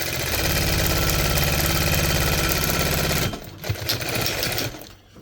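An upholstery sewing machine runs steadily, stitching a boat seat cover in a loud continuous mechanical whir for about three seconds, then stops, leaving a few softer handling knocks and rustles.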